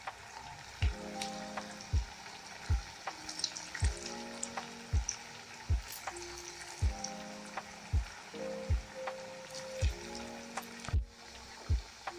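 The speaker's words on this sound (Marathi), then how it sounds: "तर त्यात आपण आपले मुटकुळे तळून घेणार आहोत" Coriander mutkule dumplings deep-frying in hot oil give a steady, moderate sizzle and hiss throughout, with a regular rhythmic beat, likely background music, pulsing along underneath.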